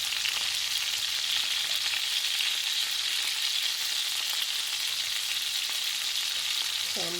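Eleven pork meatballs fry in oil in a pot, giving a steady, loud, hissing sizzle that runs without a break, with a soft clink near the end and no voices.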